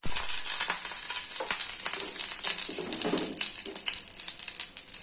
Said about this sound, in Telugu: పచ్చిమిరపకాయలు వేయించుకోవాలి